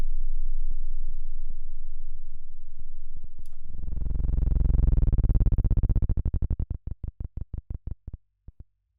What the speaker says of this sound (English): So you might hear a little click in there. That's 1 hertz.